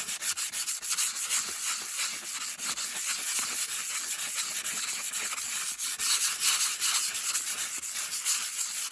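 Sandpaper rubbed by hand over a metal part of a Cadet three-phase grinder being restored, giving a steady, close, raspy scratching in rapid back-and-forth strokes with no talk.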